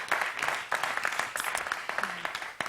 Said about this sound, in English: I clap for that